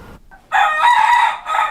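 A rooster at a seized cockfighting operation crows once, loud and close, in a strained, raspy call that briefly dips before it finishes.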